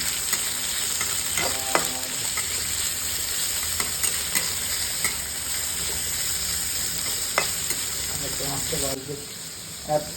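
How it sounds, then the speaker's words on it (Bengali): Corn kernels frying in a pan for Hakka noodles: a constant close hiss and sizzle with occasional stirring scrapes, softly under a voice, easing off near the end. "কর্নটা হালকা করে এটাকে ফ্রাই করো"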